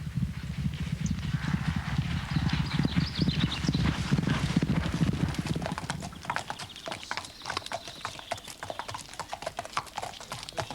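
Racehorses, including the favourite Morley Street, galloping in a sharp four-furlong workout, their hooves drumming in a fast, steady rhythm that stays close and clear throughout with no speech.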